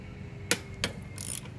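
Metal wrench working a 10 millimeter bolt off a carburetor bracket on a Honda engine: a sharp click, a second click, then a short buzzy ratcheting run, close and fairly quiet.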